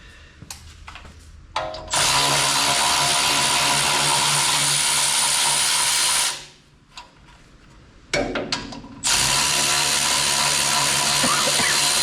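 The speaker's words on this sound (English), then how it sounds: "So I'll now undo the rest of the bolts that hold it all together." A power tool undoes tight bolts in two long, loud, steady whirring bursts, each preceded by short clicks and handling noise, with a brief quieter gap between them.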